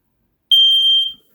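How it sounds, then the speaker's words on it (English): A household smoke alarm is pressed for a test, giving one loud, piercing electronic beep about half a second long that cuts off sharply, with silence before and after. "Son, hit that smoke alarm."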